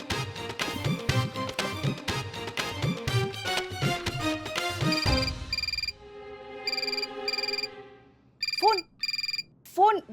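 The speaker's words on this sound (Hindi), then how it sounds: "फोन बज रहा है" Busy music and voices in a Hindi TV episode give way to an electronic telephone ringing in repeated short bursts, with a few rising tones near the end.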